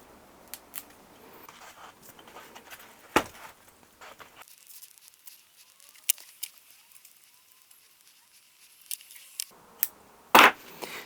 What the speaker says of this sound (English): Got some old smaller leaves that have died back here. I'm just going to trim them away.